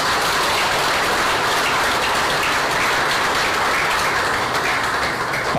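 A large crowd at a political rally in Busan breaks into loud, sustained applause, a dense, even roar of clapping that fills the space without pause.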